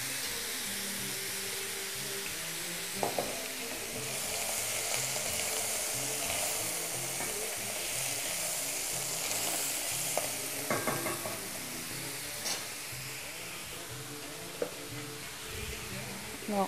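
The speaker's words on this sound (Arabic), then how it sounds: "البصل اللي يحب الوقت نعطيه له وقته باش يدبل" Onions frying in a pan for Algerian lham lahlou, a steady sizzle with occasional stirring clatters of a utensil against the pan, close and continuous throughout.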